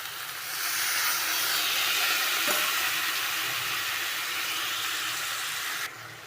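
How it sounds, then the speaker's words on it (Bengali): A splash of water hits frying spices in a hot wok for an egg and potato curry, setting off a loud, steady steaming hiss that holds evenly for several seconds before easing slightly. "এখন হালকা একটু পানি দিয়ে দিব মশলাটা কষানোর জন্য"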